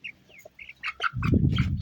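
Lohmann Brown hens and a rooster cluck and chirp close by in short bursts, then a louder rush of fluttering and scratching noise takes over toward the end.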